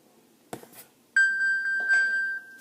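An iPod Touch 4G sounds the Find My iPhone alert: after a couple of soft handling bumps, a bright, steady electronic chime tone rings out loud and sustained with a pulsing repeat, close and clear, no talking.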